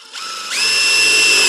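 A power drill whirs up to speed and holds a steady high-pitched whine, close and loud, while installing stairs in a vinyl liner pool.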